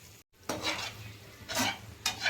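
Chicken liver fry curry being stirred in a pan over low flame makes soft repeated scraping and sizzling strokes in short bursts, with quiet gaps between them.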